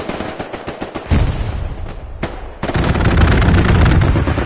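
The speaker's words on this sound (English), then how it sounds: "Danger close strafing run coming in on that" Sustained rapid gunfire from a strafing run in a video game, dense loud bursts that swell into a heavier continuous roar after a brief lull, with near and distant shots blending together.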